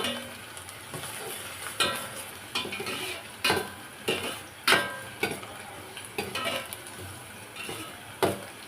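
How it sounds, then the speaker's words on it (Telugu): Onions and green chillies frying in oil in a pan, a steady sizzle broken by repeated scrapes and clinks of a spoon stirring against the metal, moderately close with no talking. "బాండీ పెట్టాను ఆయిల్ వేసి ఉల్లిపాయ పచ్చిమిర్చి వేసాను ఫ్రెండ్స్ ఇప్పుడు ఇది కొంచెం వేగి వేగుతుంది కదా"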